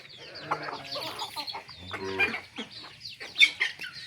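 Chickens, with ducks among them, cluck and chatter close by while feeding in the evening, a lively run of overlapping calls with one louder squawk near the end.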